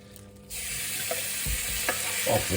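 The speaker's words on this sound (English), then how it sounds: "get this chicken partially cooked through" Chicken pieces hit a hot pan and start frying, a sizzle that swells after a quiet start, broken by a few soft clunks and stirring sounds.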